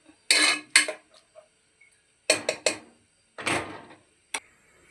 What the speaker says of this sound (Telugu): మూత పెడుతున్నానండి